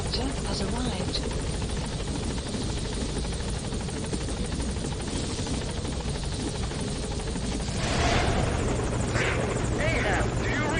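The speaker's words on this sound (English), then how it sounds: "Support helicopter has arrived." Support helicopter from the video game Metal Gear Solid 5 arrives with a steady, continuous rotor thrum and engine roar throughout, swelling louder near the end, with a radio voice talking over it.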